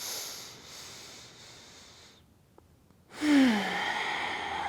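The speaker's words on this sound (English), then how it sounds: "I'm going to exhale through the nose, using the breath here strongly." A strong exhale through the nose during a yoga stretch, a breathy hiss that fades out, then after a short pause a louder, close forceful nasal breath.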